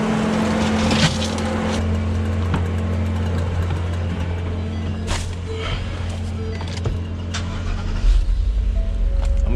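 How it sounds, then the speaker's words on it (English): A steady engine drone with a low hum comes from a pickup truck while its bed tilts up to dump a load of gravel. A clank or two is heard, and the tone shifts near the end. "I'm about to raise up the bed so the gravel comes out easier."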